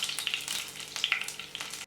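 Curry leaves and two halved dried red chillies fry in hot oil with popped mustard seeds and cumin for moringa leaves sambar, giving a close, steady sizzle with scattered sharp crackles and spits throughout, no voices.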